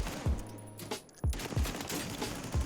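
A Hogger gun fires on a firing range in Warzone, short rapid bursts of close, punchy shots with low thumps, separated by brief pauses and heard without talking.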